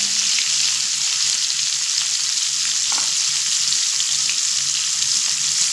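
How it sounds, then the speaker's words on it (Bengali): Boiled green jackfruit pieces frying in oil, a bright steady hiss of sizzling that stays even and close for the whole stretch, with a low hum underneath and no speech. "এই একই তেলের মধ্যে সিদ্ধ করা এঁচড়গুলো একটু ভেজে নেব"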